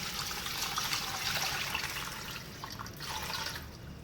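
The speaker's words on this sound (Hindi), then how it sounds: "ये एक छोटा ये जग जो है मैंने पानी का डाला है।" Water poured from a small jug into a cooking pot of shami kabab mix with onion, dried coriander and salt, a steady close trickle and splash lasting several seconds that eases slightly near the end.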